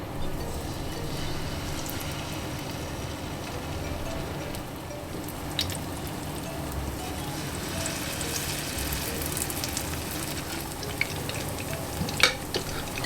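Salmon fritters fry steadily in a pan, giving a continuous dense sizzle with occasional sharper crackles and pops, close and alone without speech.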